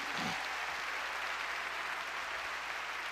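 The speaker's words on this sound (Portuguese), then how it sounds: "Mas para um aplauso mesmo, esse foi." Congregation applauding during a Sunday morning Baptist church service, a steady wash of many hands clapping together, fairly faint and continuous throughout with no clear talk over it.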